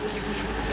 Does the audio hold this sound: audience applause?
no